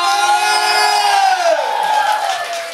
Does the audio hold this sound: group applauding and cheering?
yes